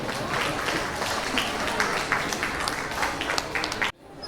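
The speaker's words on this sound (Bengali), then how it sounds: "সবার জন্য আরেকটা জোরে হাততালি হয়ে যাক।" An audience claps loudly for young performers after a children's folk dance show, a sustained dense burst of applause that cuts off abruptly near the end.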